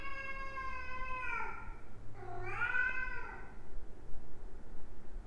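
A cat lets out two drawn-out meows in quick succession, close and clear, followed by quiet room noise.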